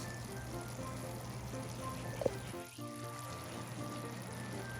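Water poured or stirred in a bowl to mix with cornstarch, a faint liquid trickle and swirl over a low background hum, with one brief clink partway through.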